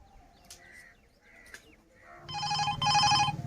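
After a few faint chirps and clicks, a telephone starts ringing loudly, an electronic ring in two bursts close by.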